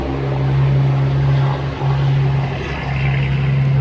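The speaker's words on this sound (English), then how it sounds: "Let that truck go by." A truck drives past with a loud, steady engine drone and a strong low hum that dips briefly and then returns, heard alone without talk.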